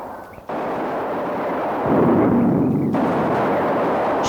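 A continuous roar of battle noise rumbles loud and dense, with abrupt shifts in intensity, as grenades and machine gun fire overwhelm attackers in a jungle valley fight.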